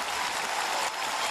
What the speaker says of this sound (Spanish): Fíjense, el pabellón en pie. Para aplaudir el programa